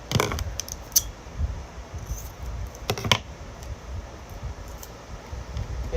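Tape being handled and applied by hand, a run of close, irregular crinkles, taps and sharp ticks with brief louder snaps, no talk over it.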